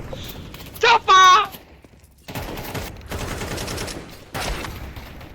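Rapid video game gunfire crackles in quick bursts, loud and close, with a brief shouted voice near the start and the shooting continuing in stretches afterward.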